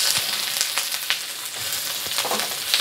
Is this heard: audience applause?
no